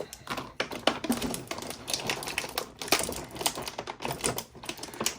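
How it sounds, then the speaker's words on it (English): Plastic packaging being handled as toy blasters are popped out of a GI Joe Classified Baroness figure box: rapid crinkling, clicking and snapping of plastic, close and busy, with irregular sharp taps throughout and no talking. "I'm going to pop the blasters out."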